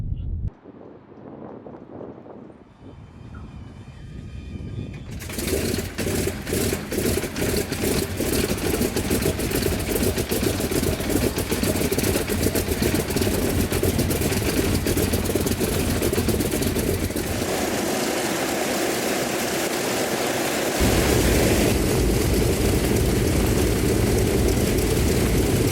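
Radial piston engines of the B-24 bomber Diamond Lil starting and running before flight, first sputtering and then building to a loud, steady, close roar with a shift in tone near the end, and a voice briefly heard at the start.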